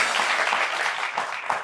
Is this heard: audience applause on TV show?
yes